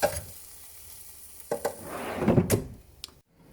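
Sliced capsicum and onion fry in a pan, a close sizzle punctuated by a few sharp utensil knocks and a louder burst of stirring near the end before a quick drop to quiet.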